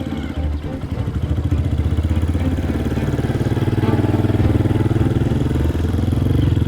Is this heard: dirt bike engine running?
yes